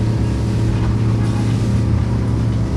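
A motorboat engine runs steadily out on the sea, a loud continuous low drone with a strong hum and broadband wash of water and wind, with no talking.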